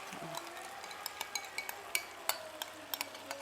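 Chicken pieces for barbecue chicken are stirred in a pan, giving a soft, faint sizzle with a series of light, regular scrapes and taps from a utensil.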